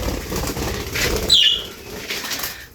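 A budgerigar, weak after laying eggs, flaps its wings on being released indoors, a brief soft flutter of wingbeats against faint room noise.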